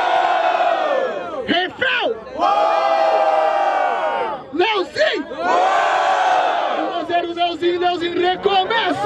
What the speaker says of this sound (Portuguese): Barulho pra rima do Leozinho